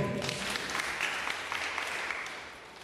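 An audience at a public meeting in Kenya claps in applause. A dense, continuous patter of many hands sounds from a short distance and tapers off slightly toward the end.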